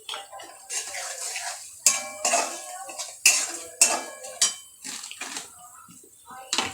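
Spice powders including coriander and cumin powder are stirred together in a metal pan, giving a series of sharp scraping and clinking strokes at an uneven rhythm, close and moderately loud, with no talk.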